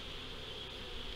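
Bees buzz at a hive entrance just after nucs are installed, a faint, steady, droning hum that holds unchanged throughout without any voices.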